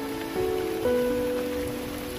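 Steady rain falls in a garden, a dense, continuous patter on surfaces with no voices, holding an even level throughout.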